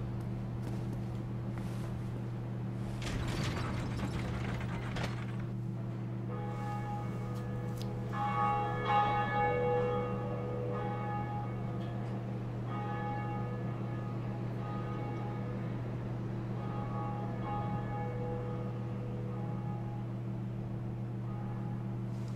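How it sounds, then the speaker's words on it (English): The Bell of Awakening in the Dark Souls video game rings out with sustained, resonant bell tones over a steady mechanical drone and low hum, with no talking. "And up here is finally our first Bell of Awakening."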